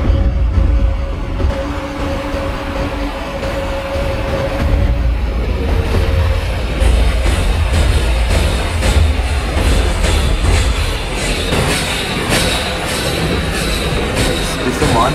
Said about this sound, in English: So one more train in opposite track.